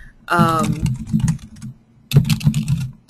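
Typing on a computer keyboard, bursts of close, crisp key clicks in quick irregular runs, with a short pause between two flurries and a voice heard briefly at the start.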